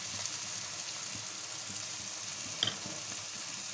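Gongura and tomato curry cooks in a pan at home, giving a soft, even sizzle and bubbling hiss, with a single faint clink of a utensil against the pan partway through.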